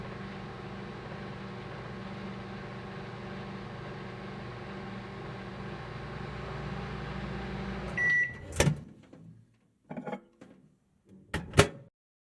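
A microwave oven hums steadily for several seconds while cooking a chocolate keto mug cake, then stops; a few clunks and knocks follow, like its door opening and items being handled.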